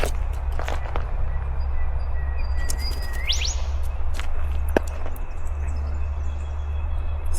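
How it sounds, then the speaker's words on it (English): King parrots give scattered sharp calls and chirps close by at a campground over a steady low rumble, with brief rising whistles and occasional rustling or footsteps. "King parrots, they're not scared,"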